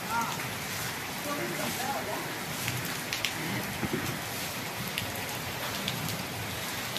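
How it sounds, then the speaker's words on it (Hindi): Heavy rain pours steadily in a dense, continuous hiss, with occasional louder drops and splashes standing out against the downpour. "आज तो बहुत भयंकर बारिश हुई है भाई"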